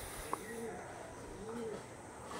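Pigeons at a pigeon sale in West Bengal give a few soft, low coos at a moderate distance over a steady background hum, with no one speaking.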